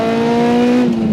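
A loud K20-swapped Honda EG Civic drives with a steady, droning high engine note that holds at constant revs, close and dominating, with no talk.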